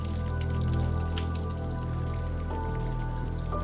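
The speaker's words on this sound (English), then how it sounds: "It's like it's raining underneath here." Meltwater drips and patters like rain inside a melting glacial cave in the Canadian Rockies, a soft, continuous scatter of drops over a low steady background rumble.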